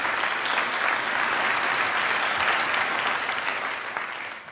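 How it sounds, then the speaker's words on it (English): A live audience at a Kansas City startup pitch event breaks into steady, dense applause for the sponsors, loud and sustained throughout before thinning slightly at the end. "If we can give them a quick round of applause"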